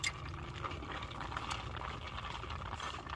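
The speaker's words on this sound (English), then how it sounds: "It's like sizzling." Coolant sizzling on a hot Ecotec 1.4 turbo engine with a coolant problem, a steady faint hiss and crackle throughout, close by with no talk.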